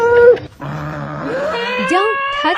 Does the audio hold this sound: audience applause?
no